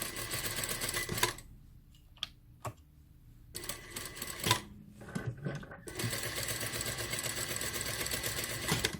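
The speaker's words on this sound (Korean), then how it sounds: "밑단만 딱 접어서 박음질." A sewing machine runs fast, stitching the folded hem of a dress during an alteration. Dense, rapid stitching bursts come at the start and the end, with a quieter pause between them marked by a few sharp clicks.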